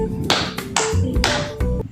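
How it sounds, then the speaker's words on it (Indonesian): Hand claps counted out in a classroom rainbow clapping game, three sharp claps spaced evenly over about two seconds, close and loud, with no talk over them. "terus cantik sekali 3 kali tepukan"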